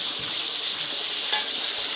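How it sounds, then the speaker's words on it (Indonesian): Food sizzles steadily in hot oil, being fried until crisp, a constant close hiss with faint utensil stirring and no voices. "Oke, digoreng sampai garing."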